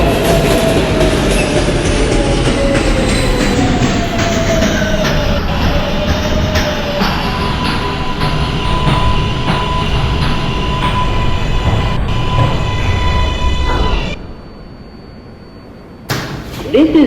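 Queens-bound New York City Z skip-stop subway train riding at Norwood Avenue, a loud steady rumble with squealing wheel tones and rhythmic clicks over the rails, then a sudden drop to quieter idling near the end before the noise rises again.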